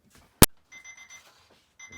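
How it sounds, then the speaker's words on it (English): Kitchen timer going off while Greek meatballs bake in an oven: a sharp click, then repeated short bursts of high electronic beeping, close and clear in an otherwise quiet room. "So our timer's going off."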